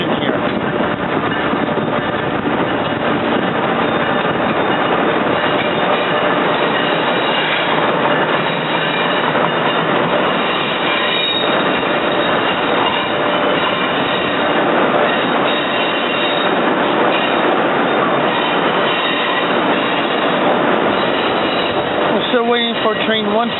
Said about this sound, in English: Amtrak AEM7 engine number 942 coming in to 30th Street Station here.